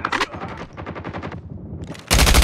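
Automatic gunfire rattles in Call of Duty Mobile in rapid, loud bursts. A brief lull comes before a final dense blast of firing.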